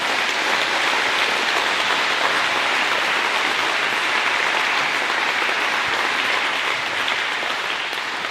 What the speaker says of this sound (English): Up a big round of applause for everyone up here tonight.